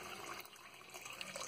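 Water is poured over a temple idol, a faint continuous trickling and splashing of liquid heard alone at low level.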